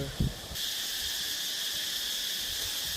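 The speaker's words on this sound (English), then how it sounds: "A lot of cicadas." Dense cicada chorus in a forest river gorge along the Mai river, a loud continuous high shrill drone that swells in after a brief thump and holds steady.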